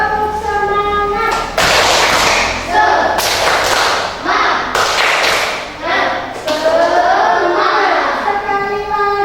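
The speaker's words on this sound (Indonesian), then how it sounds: "Ayo kita tepuk semangat dulu. Tepuk semangat." Children clap a rhythmic spirit chant in a classroom, loud sharp claps in quick patterned bursts repeating across the whole stretch, with young voices calling along.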